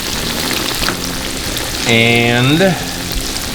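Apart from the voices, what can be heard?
breaded chicken-fried steaks frying in 350 degree peanut oil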